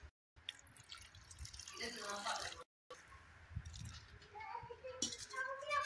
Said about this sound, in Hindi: थोड़ा ठंडा पानी डाल दिया।